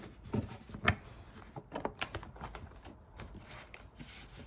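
Tarot cards are shuffled in the hands, giving uneven papery riffles and soft slaps with a few sharper snaps, close and moderately quiet.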